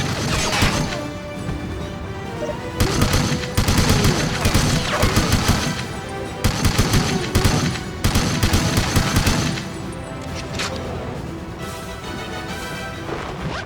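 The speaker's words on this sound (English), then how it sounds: "Someone else was definitely shooting at me from over here, right?" Gunfire in the game James Bond 007: Everything or Nothing, repeated loud bursts of rapid shots with crashing impacts, coming in several clusters over steady background game noise.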